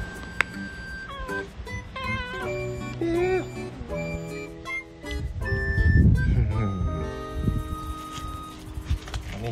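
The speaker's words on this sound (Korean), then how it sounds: "어, 남이 왔다, 저기. 야옹!" A cat gives several short, rising meows close by, mixed with people talking and household sounds indoors.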